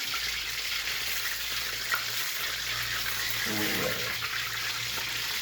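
Crispy wontons deep-fry in hot oil as the heat is switched off, a dense, steady sizzling hiss filling the background, with a brief clink of a utensil partway through.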